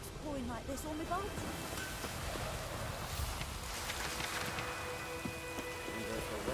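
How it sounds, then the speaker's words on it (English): Steady rain pours in the Witcher 3 video game, a dense hiss of drops with brief splashy detail, while a voice talks over it. "Let it rain."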